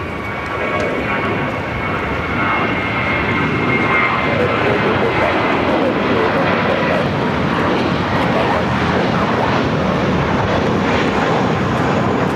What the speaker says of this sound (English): back-to-back A380 Super arrivals there on the north side